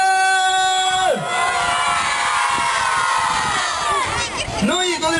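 A crowd of children at a children's party shouting hurray together, a loud sustained chorus of high excited voices and cheers, with an adult's voice rising briefly near the start and again near the end.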